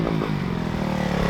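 A quiet dirt bike engine running continuously at close range with a steady, even drone and light mechanical clatter, no voices.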